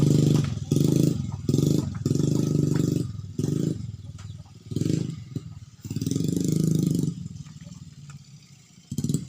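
A faulty motorcycle engine runs rough and uneven, surging and dropping in irregular bursts with rattling, clattering mechanical noise, close by and with no talk.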